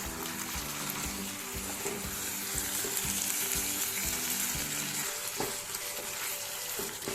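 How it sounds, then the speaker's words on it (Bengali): Marinated chicken pieces fry on a high flame for Goan-style vindaloo, giving a steady, loud sizzle with frequent stirring clatters and scrapes of the spoon in the pan. "জাস্ট চিকেনটা দিয়ে কষাচ্ছি ভালো করে"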